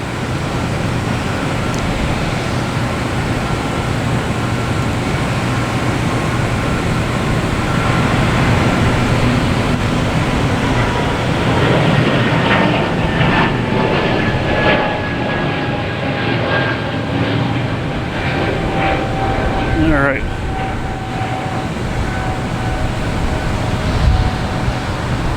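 JetBlue Airbus A220 jet passing close at Boston Logan Airport, a loud sustained roar that swells and fades over about twenty-five seconds, with a thin whine sweeping down in pitch as it goes by.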